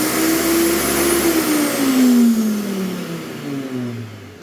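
A Ryobi 2500 W mains-powered electric garden shredder with two blades running indoors, its loud motor whine echoing off the room and slowly dropping in pitch as it spins, with no one speaking.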